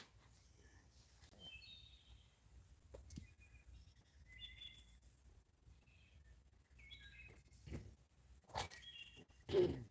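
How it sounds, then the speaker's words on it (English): Wood thrush singing at dusk in the woods, several short fluting phrases spaced a second or two apart, faint and distant over a low hum of insects, with a few soft knocks and rustles nearby. "So that noisy guy is a wood thrush."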